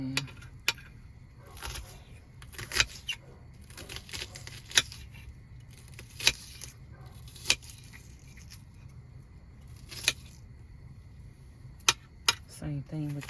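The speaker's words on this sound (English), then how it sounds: "this is how I cut my onions" A knife chops through an onion on a cutting board while cooking black bean soup inside a camper van, giving sharp, separate cuts at an irregular pace over a low steady hum.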